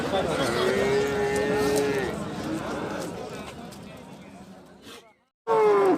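Cattle at a livestock bazaar in Bokhtar, where dairy cows and bulls are sold, give long drawn-out moos up close, one after another, with a final loud bellow amid market noise and voices.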